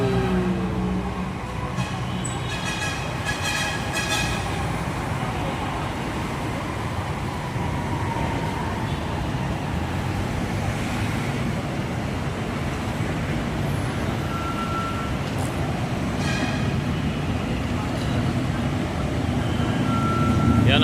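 Dense street traffic rumbles continuously in Cubao, Quezon City, with an elevated light rail train rolling past and passing vehicles, while a person talks over the noise.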